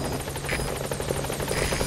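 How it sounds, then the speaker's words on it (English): A support helicopter in Metal Gear Solid 5: The Phantom Pain makes a loud, close, rapid rotor chop with a steady mechanical whine, continuous throughout and heard alone. "Support helicopter."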